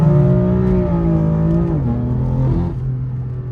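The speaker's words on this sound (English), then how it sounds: "watch, this is a first gear pull." A BMW M4 F82 engine makes a first-gear pull: a loud, close, throaty drone with a strong tone that wavers and dips in pitch twice, steady throughout with no talking.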